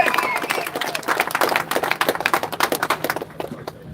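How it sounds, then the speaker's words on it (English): Crowd applause at an outdoor anti-HMO protest in Broadstairs, a dense wash of many hands clapping steadily for several seconds, mixed with crowd noise and some voices, fading slightly toward the end. "They deserve more than a round of applause."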